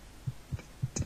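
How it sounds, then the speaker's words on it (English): Heartbeat sound effect from the video game Doom 3, four soft low thumps in a regular pulse, faint and alone. "I hate heartbeats."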